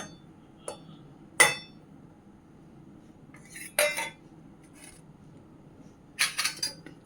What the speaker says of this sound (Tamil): இது எல்லாத்தையும் போட்டு இப்போ மிக்ஸ் பண்ண போகிறேன்